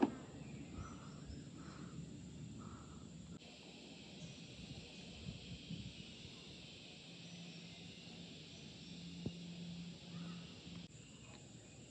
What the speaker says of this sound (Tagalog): marinig mo lang yung mga huni ng ibon, yung mga cricket